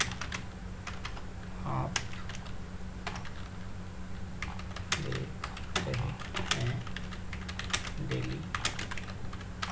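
Computer keyboard keys clack in irregular bursts while typing text in InPage, with someone speaking briefly in between.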